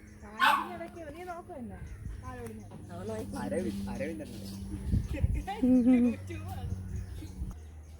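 A dog barks a few short, fairly faint times during a rainy day at home, while people talk nearby and steady background noise runs underneath.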